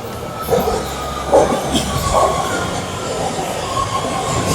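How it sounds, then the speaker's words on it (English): A train arrives at Oakland station with loud rumbling wheels, clattering and faint squeals of braking rolling steadily under the platform noise, with no talk. "Our train is here."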